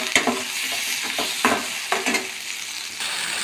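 Spiced masala with tomato frying in a pan and being stirred, a steady close sizzle broken by several sharp scraping stirs, with no talking.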